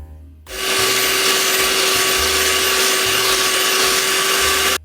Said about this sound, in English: I'm going to beat it with the hand mixer until everything is mixed and well combined